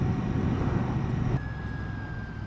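A 2025 Royal Enfield Classic 650 motorcycle rides along with a steady, loud engine and road roar, and a faint rising whine appears as the throttle is eased off partway through.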